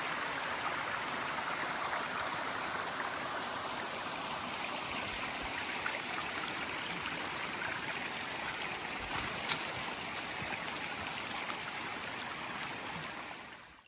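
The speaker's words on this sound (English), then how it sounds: "With all the rain that we received yesterday, we get to see these beautiful waterfalls." Rushing waterfalls and a swollen stream on a trail after heavy rain, a steady, full broadband roar of water holding constant and close throughout with no pauses.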